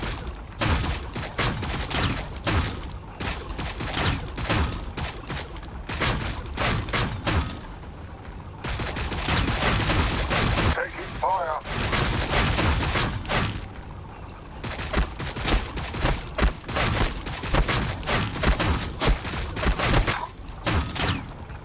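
Battle gunfire from the strategy game Warhammer 40,000: Battlesector, with Blood Angels fighting Tyranids: a loud, dense stream of overlapping shots and impacts that rarely lets up, with one brief lull midway before the barrage resumes.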